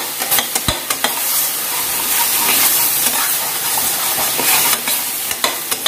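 Spices and tomato sauté in a hot pan with a loud, continuous sizzle and hiss, broken by several sharp scrapes and taps of a stirring spoon against the pan.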